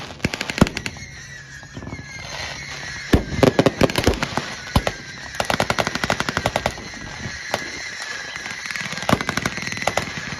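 Rapid bursts of M16 quad machine gun fire ring out at a WWII battle reenactment at a thresher show, with sharp clustered volleys, scattered single shots and loud staccato rattles in uneven bursts against a noisy outdoor background.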